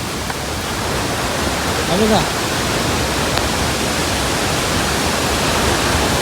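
Devkund waterfall in Raigad, Maharashtra, rushes between two hills with a constant, dense roar of falling water, and a faint voice briefly surfaces under it.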